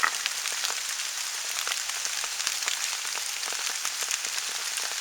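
Rain patters steadily onto an umbrella over a hammock campsite, a dense spray of close drops with small irregular taps, continuous and even throughout.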